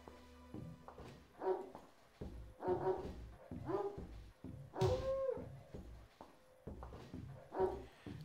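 Dogs in the video game Little Big Adventure 2 barking repeatedly in a series of separate, fairly close woofs and yips spread across several seconds, with short pauses between barks and no talk.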